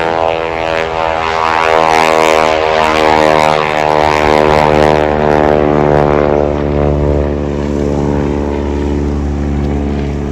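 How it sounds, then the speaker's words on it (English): Biplane piston engine and propeller at an airshow, a loud steady drone with rising harmonic pitch as it runs up near the listener, no voices over it. "Now it's time for the biplane with the girl on the wing."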